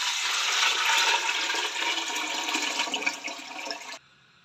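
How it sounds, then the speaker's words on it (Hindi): Water poured from a vessel into a pressure cooker holding washed masoor lentils, a steady splashing rush lasting about four seconds before stopping abruptly. "अब हम इसमें डालेंगे पानी।"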